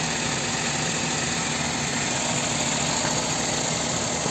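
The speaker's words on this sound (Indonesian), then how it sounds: "Ini hanya kena getaran mesin saja" A car engine idles steadily while its radiator is bled through a coolant funnel: an even, continuous mechanical hum and vibration, fairly close, with no talking.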